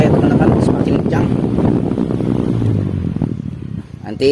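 Cosmos electric fan, being repaired for spinning too slowly, runs at its top speed 3 setting, giving a loud, steady rushing whoosh of air that holds throughout and eases slightly near the end.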